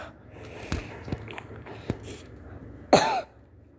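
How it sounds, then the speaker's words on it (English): One sharp, loud cough close up from a person with a cough and cold, following a few faint clicks and mouth noises in an otherwise quiet room. "Sorry, I have my coughs."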